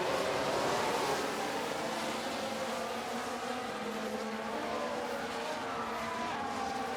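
Simulated F1 race cars roaring off the grid at the start of the Saudi Arabian Grand Prix in F1 Manager 23, a dense, steady blend of engine whine and buzzing that holds loud and even throughout, with no talk.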